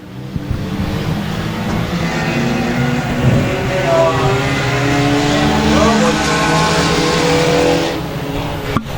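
Four-cylinder race cars in a heat race at Boothill Speedway, engines droning and revving steadily as the pack circles, loud and sustained with a swelling, passing quality, while an announcer talks over the roar.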